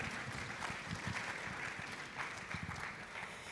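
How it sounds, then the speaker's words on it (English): Audience at an anniversary symposium applauding two professors after a presentation, steady soft clapping from a room of people, faint and continuous without talk. "A round of applause for them one more time."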